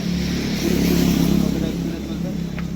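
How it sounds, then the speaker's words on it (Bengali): An electric motor runs after a new controller is fitted and matched for speed, giving a steady close whirring hum that swells slightly midway, while someone talks over it. "তো মোটরটা ঘুরছে দেখতেই পাচ্ছেন, হাইলো, মোটর হাইলো।"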